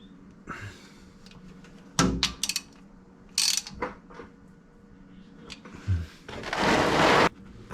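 Ratchet tightening an oil drain plug fitted with a new washer on a Griffinator, short bursts of quick clicking pawl ratchet strokes close up, separated by pauses, with a longer loud scraping rush near the end.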